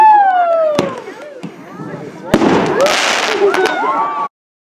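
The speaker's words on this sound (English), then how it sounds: "Got ourselves maybe a fireworks show." Fireworks pop and burst a few times, with whistling rising tones and crackling between, alongside voices in the background.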